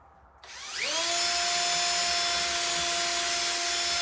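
A power drill spins up after a brief quiet moment, then whines at a steady high pitch as it bores into a glued wooden board chair, close by.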